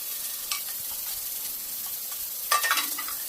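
Three whole red chillies roasting and stirred in a pan give a soft, continuous sizzle, with a couple of brief scraping stirs, the clearest one near the end.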